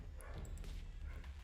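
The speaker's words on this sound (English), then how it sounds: "sorry about the dogs" Dogs barking and yipping somewhere in the room during a Duelyst card game session, short faint yaps over a low steady hum, with no one talking.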